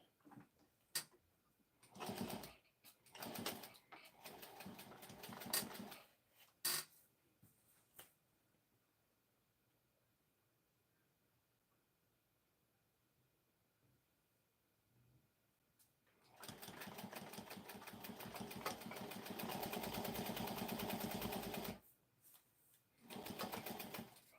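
Sewing machine with a velvet walking foot stitching a turned-under raw-edge hem 5/8 inch deep, heard as a few short uneven bursts, then a long steady run after a quiet pause and one last brief burst.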